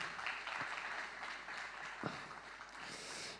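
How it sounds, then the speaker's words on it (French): An audience at an awards ceremony claps steadily in a room, moderate and even, with a couple of slightly louder claps standing out. "Vous pouvez les applaudir, bien entendu."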